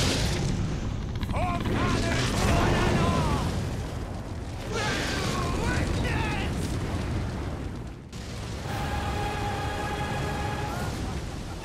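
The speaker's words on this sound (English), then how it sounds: "spews fire everywhere" In the Elden Ring fight against Godrick the Grafted, fire roars out in a loud, sustained, rumbling blast that keeps surging, with a brief dip before the flames flare up again.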